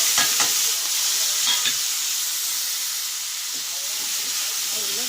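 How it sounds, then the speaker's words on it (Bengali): Pumpkin and potato frying in oil tempered with a bay leaf and cumin, the oil already used for frying crab: a loud, steady hiss of frying with a few faint clinks early on, close up. "এবার আমি এই ফোড়নের মধ্যে দিয়ে দিলাম কুমড়ো আলু আর কাঁচা"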